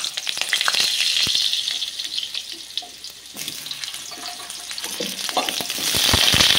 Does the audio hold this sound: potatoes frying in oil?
yes